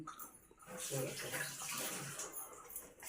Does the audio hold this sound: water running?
yes